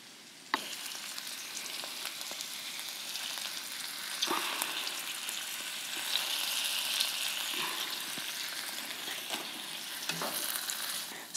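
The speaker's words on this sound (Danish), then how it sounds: "Skal lige blandes rundt lidt." Noodle wok ingredients with citrus juice and seeds frying in a hot pan, a constant close sizzle broken by intermittent scrapes and taps as they are stirred around.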